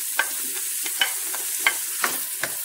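Chopped onion frying in about four tablespoons of olive oil for a shepherd's pie filling: a steady close sizzle broken by five evenly spaced scraping stirs, with no talking.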